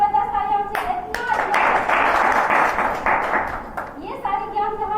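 Audience clapping at a DXN meeting attended by women, a dense burst of applause rising between stretches of a voice, loud and close, fading as talk resumes.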